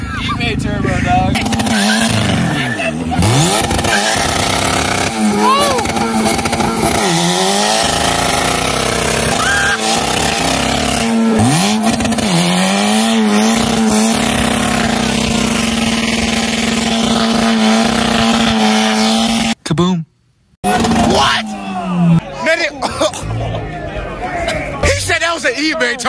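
A turbocharged car revs hard at a crowded Houston car meet, its engine roaring loud and close with repeated throttle blips and rising pitch sweeps, under shouting and chatter from the crowd, with a brief cutout near the end.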